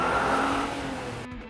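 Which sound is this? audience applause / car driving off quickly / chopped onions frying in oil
car driving off quickly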